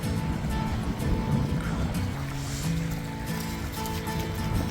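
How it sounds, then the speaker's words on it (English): Waves wash onto a wide Pacific Ocean beach at low tide as a steady, rushing surf. A low wind-like rumble runs underneath, with no talk. "Okay, so now I'm at the ocean."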